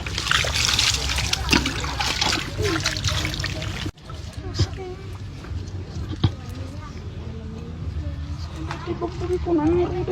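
Water splashes and trickles as a cat is rinsed during a bath, with uneven pouring and dribbling and a brief break, while people talk over it.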